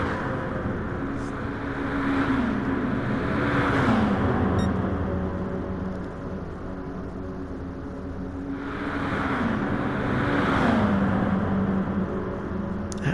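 Race cars at full throttle in a video game GT race on the Tokyo East Inner Loop, engines droning loud and close, pitch rising and falling across two long swells as cars pass.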